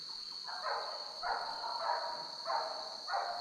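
Pig-hunting dogs barking in sugarcane, a series of about five faint, distant barks spaced roughly evenly over a steady background hiss.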